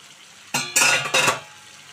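Fish pieces cooking in a little oil in a pan for a fish curry: a faint background hiss, then two loud bursts of sizzling and clattering about half a second apart, fading out, with no voices.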